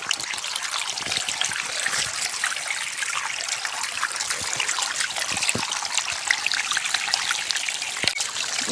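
Water runs into a rice paddy field with a steady trickling and gurgling flow, continuous and close, with small splashes and no voices.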